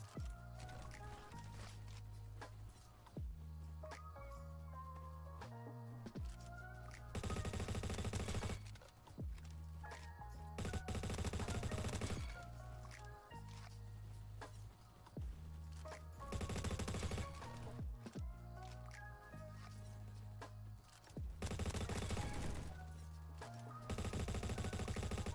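Repeated bursts of rapid automatic rifle fire from the Honey Badger in the shooter game Bad Business, loud and close, arriving in several separate strings with short pauses between them and no speech.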